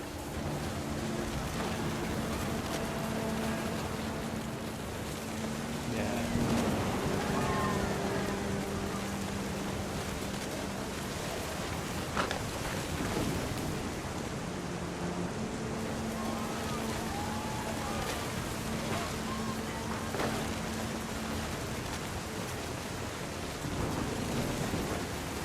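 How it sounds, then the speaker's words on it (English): Steady rain hisses throughout a stormy scene in the video game What Remains of Edith Finch, with low thunder rumbling underneath and faint music tones drifting over the wash of noise. "The thunder sounded much too close and full of angry power."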